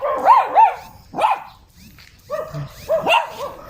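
Several dogs bark in bursts, sharp and close, with short pauses between volleys and overlapping barks near the end.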